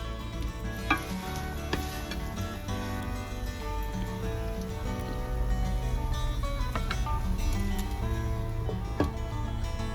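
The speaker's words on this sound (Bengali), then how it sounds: "চলুন এঁচোড়টা একটু ভালোভাবে নেড়ে নিই" Jackfruit and spices being stirred in a hot pan, with steady sizzling and scraping strokes at a moderate level, set against a dense musical background with no talk.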